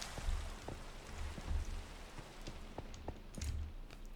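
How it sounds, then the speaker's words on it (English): Rain falls in a Minecraft world during Forgecraft modpack play, a soft, steady patter with occasional faint drop ticks and low thumps, fairly quiet and without talking. "Because it's Forgecraft, it's raining"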